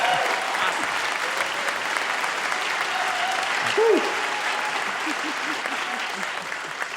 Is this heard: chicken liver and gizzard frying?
no